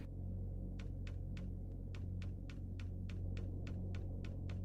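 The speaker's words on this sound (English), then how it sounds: "Some more elevator action." Elevator in the game Advent Rising moving steadily, a low continuous mechanical hum and rumble with a regular series of faint clicks ticking past about every third of a second.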